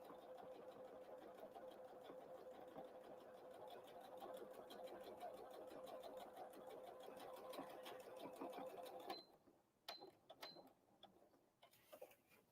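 Domestic sewing machine stitching festive Christmas tree fabric napkins, a steady rapid mechanical whir for about nine seconds, then stopping and restarting in short bursts with faint clicks, no talking.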